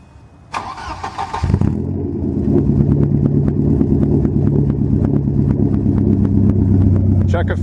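Volvo 740 GLE 16-valve engine with a near-straight-pipe exhaust cranks, catches and settles into a loud, lumpy idle, recorded up close with a brief voice near the start.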